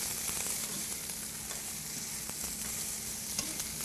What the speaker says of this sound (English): I'm going to add a little bit of our Worcestershire to it. As you can hear, that's going to sizzle and pop.